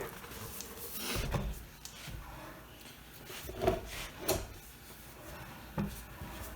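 A wooden Queen Anne tilt-top table top is swung shut, with soft wooden knocks and light rubbing, ending in a firmer thump as it closes flat.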